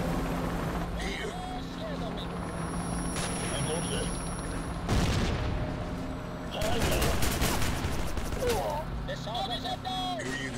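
Automatic and single gunshots crack through a war-zone battle in the video game Rogue Trooper Redux, with bursts of rapid fire, louder volleys near the middle and end, and voices talking over the shooting.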